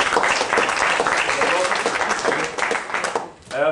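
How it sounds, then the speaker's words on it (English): An audience claps for a volunteer named Bob called up on stage, a dense, loud burst of many hands that holds for over three seconds before tapering, with voices mixed in. "Round of applause for Bob."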